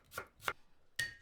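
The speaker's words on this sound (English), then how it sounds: "Chop 6 garlic cloves." Garlic cloves are chopped with a knife on a board, three crisp, close thuds spaced unevenly in quiet surroundings.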